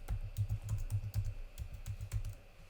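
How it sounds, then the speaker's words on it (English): Fingers type a password on a computer keyboard into a browser wallet extension, giving a quick run of soft, close key taps with brief uneven pauses. "Just going to go ahead and type in the password"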